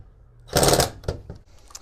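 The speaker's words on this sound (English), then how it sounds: "we're going to use these self-tapping screws to really anchor it down" A short, loud whirring burst of a power drill driving a self-tapping screw into the wall of an enclosed trailer, then a few fainter clicks and taps.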